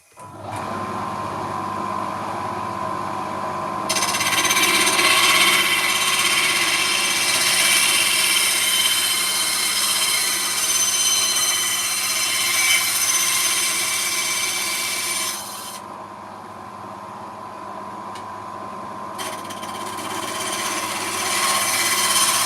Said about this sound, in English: on the little bandsaw